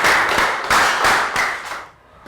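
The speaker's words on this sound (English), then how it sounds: "And round of applause for everybody for working out well." Classroom clapping, a short round of applause with five or six rhythmic bursts of hand claps, close and loud, fading out near the end with one last faint clap.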